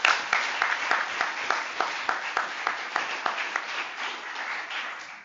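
A small audience at a conference on big data and labour markets applauds the authors, with distinct rhythmic claps over a softer clapping wash, moderately loud and tapering at the end.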